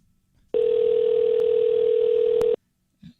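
A landline telephone emits a steady, loud, continuous dial tone for about two seconds, starting and stopping abruptly, with a brief faint sound just afterward.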